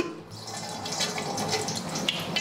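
Grape juice squeezed from a bundled cheesecloth pours and drips into a strainer over a pot in a home kitchen, a steady close liquid trickle and splatter with no talk.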